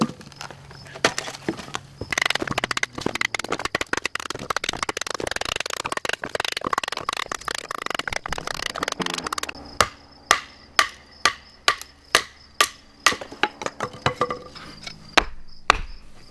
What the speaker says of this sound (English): Now batoning for me is a great way to test the tip of the knife